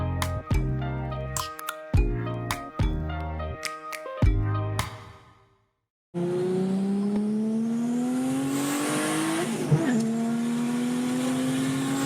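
A 1990 Nissan Skyline R32 accelerates hard onto an interstate, first with a loud engine working through rhythmic gear pulls and shift gaps, then settling into a long steady rising drone at speed.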